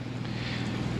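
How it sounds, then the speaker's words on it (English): Steady low mechanical drone of a generator powering a 2005 Itasca Suncruiser 35U Class A motorhome, a continuous close hum with a dense low rumble and airy hiss, no talk. "I've got it running on generator power right now"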